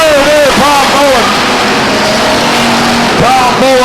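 Race cars circling the oval at Stockton 99 Speedway during a 2003 race, a steady engine roar with rising and falling pitch as cars pass, heard under continuous announcer commentary.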